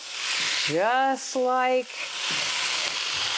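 Chicken and vegetables for fajitas sizzle in a hot pan with a broad, steady frying hiss, while a person talks over it briefly.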